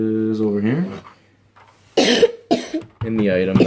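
A person gives two sharp coughs close to the microphone. Each is a short harsh burst that comes between spoken phrases.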